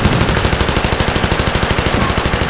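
Sustained automatic gunfire from the Battlefield 3 video game, a loud continuous rattle of rapid shots in steady rhythm with no talking over it.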